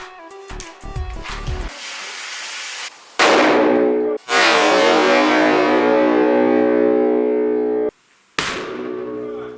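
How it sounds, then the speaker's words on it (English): Firecracker with slime attached going off: after some handling noise, a sharp loud blast with ringing decay, another bang shortly after with a long fading rumble, then a final sharp crack after a brief silence. "I'll attach this baby slime to this firecracker."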